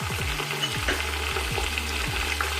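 Sliced onions already golden brown sizzling and frying steadily in a pan as tomato, ground red chilli and other spices are added for potato rice, a continuous close, loud hiss with no voices.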